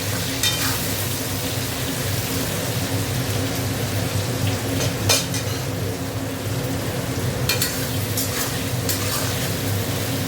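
Tomato going into a sizzling pan and being stirred, a continuous even frying hiss with a low steady hum beneath and occasional soft clicks of a utensil, no voices.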